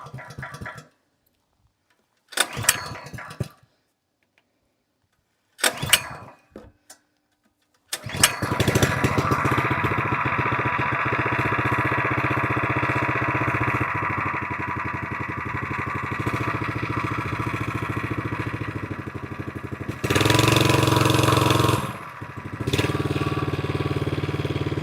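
The 2.8 HP 78.5cc gas engine on a VEVOR plate compactor is pulled over with several short recoil tugs, then catches and runs steadily at a loud, rough drone, with a brief rev surge near the end.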